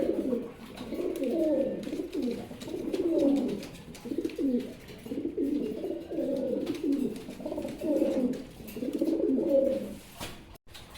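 A male and female pair of pigeons coo close by in repeated, rolling bursts, a steady rhythmic series of low throaty calls.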